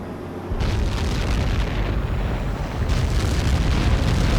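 A huge, sustained missile explosion in Ace Combat 7 roars with deep low rumble and dense broadband noise, swelling again after a few seconds, loud and continuous with no voices.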